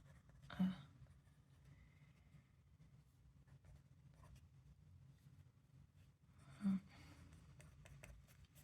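Pen or chalk writing geometry angles during a math lesson, a faint, continuous scratchy stroke sound with two brief louder taps, quiet and close, with no talk.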